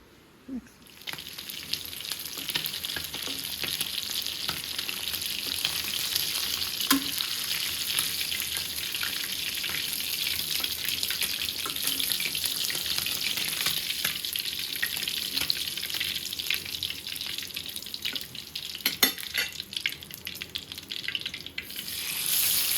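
Fish and lentil fritters (bora) frying in hot oil, a steady dense sizzle running the whole time with occasional pops and light stirring clatters, close and fairly loud, no talking.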